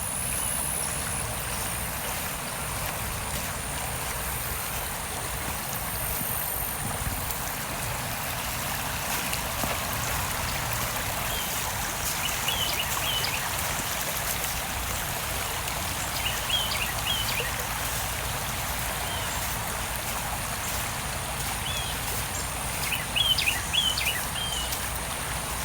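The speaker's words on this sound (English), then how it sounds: "Come on, Chance, get a drink out of the river." River water flows steadily over rocks at a swimming spot below a dam in Austin, a constant broadband rush with faint birds chirping now and then.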